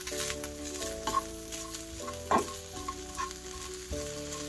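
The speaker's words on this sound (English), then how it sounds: "And we're going to fry them up until they become crispy." Halal beef bacon strips sizzling and crackling in a dry pan over medium heat without oil, with steady frying hiss and occasional stirring scrapes, while soft music plays underneath.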